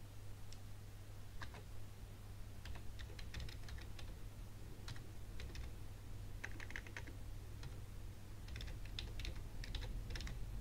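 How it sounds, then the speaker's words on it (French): Keys clatter on a computer keyboard as an email address is typed, quiet irregular bursts of taps with short pauses, close and alone. "Donc vous allez simplement taper votre adresse email."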